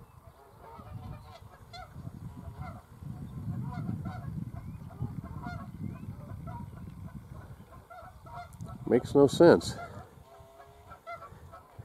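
Geese honk near a rural road with a dump truck, a burst of loud overlapping calls rising around the ninth second over steady outdoor rumble and brief speech.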